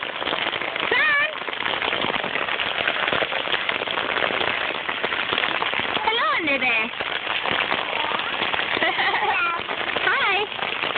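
Heavy rain pouring down outdoors in a steady, dense hiss, with children's voices and a few meow-like cries heard over it.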